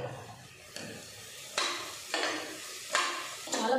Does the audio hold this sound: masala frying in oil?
yes